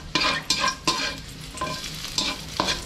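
Garlic sautés in a little oil in a pan, a soft steady sizzle broken by several sharp scraping stirs at irregular intervals, close up with no voices.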